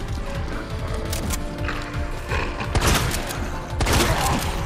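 Shotgun blasts from Resident Evil 2 Remake gameplay, a few loud booming shots, the biggest two landing near the end, over a busy din of game noise and thuds.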